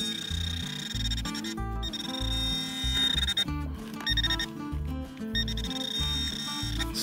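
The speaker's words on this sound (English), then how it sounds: "Here's my pin pointer. It detects all metal" A handheld metal detector pinpointer beeps in rapid, varying tones while probing a chunk of cobalt silver vein rock, close and continuous with no talk.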